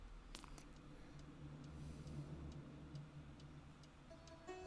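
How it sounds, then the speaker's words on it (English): Faint, steady ticking from an alarm clock in the Nancy Drew game Curse of Blackmoor Manor, with evenly spaced soft clicks over a low background hum. "Oh, that's just our alarm clock."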